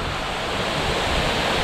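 A tall waterfall, about 90 metres high, at Bajos del Toro, Costa Rica, gives off a steady, dense roar of falling water, loud and unbroken with no voices.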